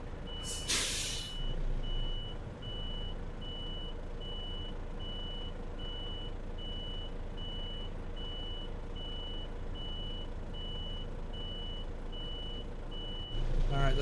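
A truck backing a trailer in Euro Truck Simulator 2 sounds a steady, repeating reversing beep over a constant diesel engine drone, with a brief air-brake hiss near the start and another near the end.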